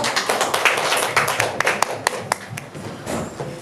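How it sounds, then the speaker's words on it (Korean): An audience at a healing-ministry symposium claps to welcome a speaker: a burst of fairly close hand claps that thins toward the end, with scattered individual claps standing out near the close. "박수로 환영하겠습니다."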